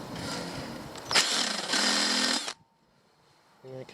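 A power drill whines at high speed boring through a metal motorcycle rim for a rim lock, changes pitch partway, then stops abruptly; a short mechanical burst follows after a pause.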